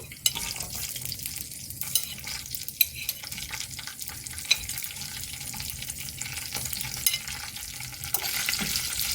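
Green chillies fry and sizzle steadily in a pan for a chutney, with scattered scraping clicks of a spoon stirring them and a faint watery hiss in the background; no one speaks.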